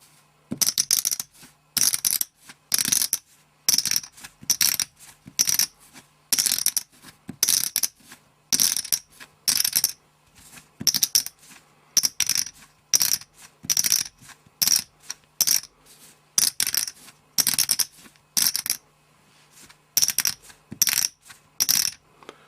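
Pharaoh's Club and Paulson clay poker chips click and clatter together in quick, repeated riffling bursts with short pauses between, crisp and close in a quiet room.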